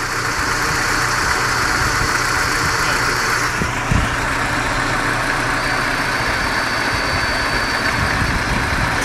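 A blowtorch hisses steadily like a turbine, a loud continuous roar with a rushing high hiss, briefly shifting in tone midway as the flame flutters, with a faint thump and no speech.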